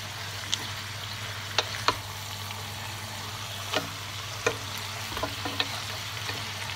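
Pieces of rabbit browning in a frying pan give a steady low sizzle with a constant hum beneath, broken by a few sharp crackles and pops scattered across the stretch.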